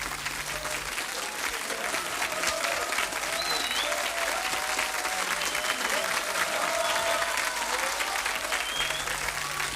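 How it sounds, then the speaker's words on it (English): Sustained, dense applause from a large, enraptured theatre audience after the curtain falls, steady and loud across the whole stretch with a few faint calls rising from the crowd. "Even then, the enraptured audience would not stop applauding"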